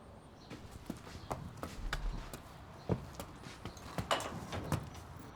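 Horse hooves clip-clopping at an easy walking pace in an audio roleplay story, a steady series of sharp, close knocks with a faint background hush.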